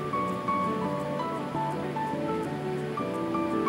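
Pumpkin leaves sizzle in oil in a wok over a medium flame, with a continuous hissing fry and intermittent stirring scrapes, heard close up and without talk.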